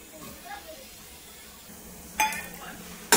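Ghee heats in a pan on the stove for kheer, giving a faint, soft sizzle, with a metallic clink of a utensil near the end and quiet talking in the background.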